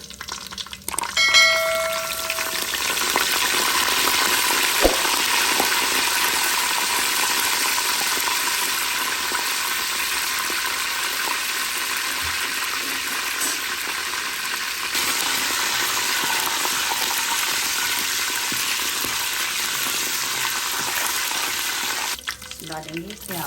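Cardamom, cloves and curry leaves sizzle loudly in hot oil for turnip beef (shaljam gosht), a steady, dense crackle that starts with a burst and holds close and even for about twenty seconds before stopping abruptly.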